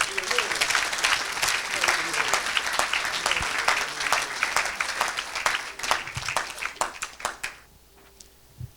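An audience at a church sermon applauds and cheers loudly for several seconds, with claps and voices mixed in, before dying away to quiet.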